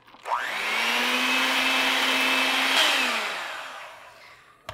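An electric mixer whips cream after powdered erythritol is added, starting with a rising whir, holding a loud steady drone for a few seconds, then winding down as it switches off.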